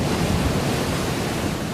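Stormy sea surf and gusting wind out on the open ocean during an approaching storm, a steady loud roar of breaking waves with wind buffeting throughout, no voices.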